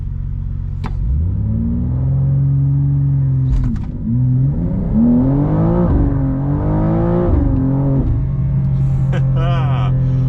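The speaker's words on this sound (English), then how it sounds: "Launch control works, and it does start in first gear." A 2024 BMW M2 CS with a tuned transmission is held at steady launch-control revs, then launches hard in first gear. The engine climbs through a rising, roaring pull and settles back to a loud idle-like drone, recorded close from inside the car.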